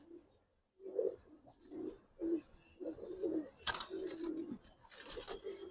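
A female Giribaz pigeon gives repeated low, throaty coos in a steady series, heard close, with brief sharper bird chirps breaking in near the end.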